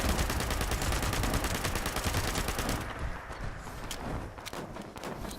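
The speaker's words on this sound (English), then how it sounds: "I'm trying to shoot his wings out." Rapid automatic gunfire in Fallout 76 aimed at a Scorched Beast, a dense, loud burst of shots for about three seconds, then sparser single cracks.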